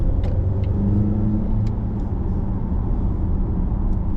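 A 2025 Volvo XC90 with a supercharged 2-liter engine pulls away from a stop under throttle, its steady low engine rumble and road noise filling the cabin continuously and fairly loud, with no talk.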